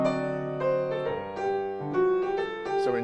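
Harmonic progression from the bridge of a tune, modulating down a whole step, played as sustained chords with short moving notes over a low bass, moderate and clear with no talking.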